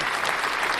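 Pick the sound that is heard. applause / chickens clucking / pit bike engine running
applause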